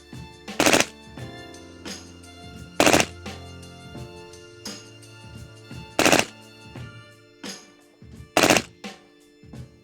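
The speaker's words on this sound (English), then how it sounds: "That's some pretty accurate suppressive fire, if you ask me." A Colt LMG machine gun fires 55-grain ammunition in short, sharp bursts, roughly five loud volleys spaced a couple of seconds apart with fainter shots and echoes between them.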